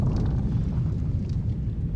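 A dense, continuous low rumble with crackling debris, like a sustained explosion in The Witcher video game, steady and loud throughout with no speech.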